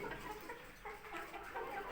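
Pullets in a coop freshly laid with wood shavings cluck faintly and softly at close range, a low, intermittent murmur with no talk.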